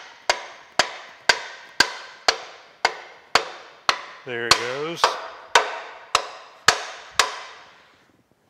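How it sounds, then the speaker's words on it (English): A brass hammer taps a horizontal boring mill table part onto its alignment pins during a restoration, with about a dozen sharp, evenly spaced metallic strikes ringing out; a brief voice cuts in partway through. "I'm gonna take a brass hammer here."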